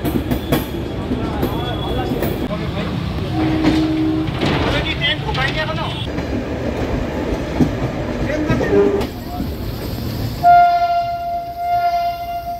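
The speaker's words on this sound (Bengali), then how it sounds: "4 মিনিট লেটে আমাদের ট্রেন ছাড়লো" The Kanchan Kanya Express pulls out of the platform at night, with clanks and rattling wheels under talk, then a long loud horn blast near the end.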